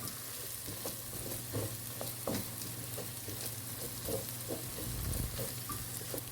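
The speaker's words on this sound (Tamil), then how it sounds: "இஞ்சி பூண்டு பேஸ்ட்டு சேர்த்துட்டு அதோட ஸ்மெல் போகிற வரைக்கும் வதக்கி விட்டுக்குவோம்." Ginger garlic paste sautéing in a pan for prawn biryani gives a steady, close oil sizzle throughout, with soft scraping clicks as it is stirred.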